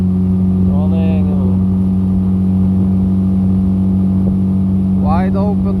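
Motorboat engine held at wide open throttle at roughly 20 knots, a steady loud drone with a strong low hum running throughout, while someone talks over it in short bursts.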